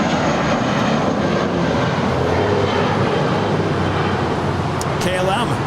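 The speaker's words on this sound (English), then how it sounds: "We do have a United Airlines 787-10 Dreamliner heading back to Newark." A United Airlines Boeing 787-10 Dreamliner departs Los Angeles International on runway 25 right, its engines a loud, steady roar with a brief higher whine near the end.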